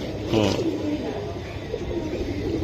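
Pigeons coo in a low, rolling murmur close by at a bird market, a brief burst near the start then softer ongoing cooing amid crowd chatter and people talking in the background.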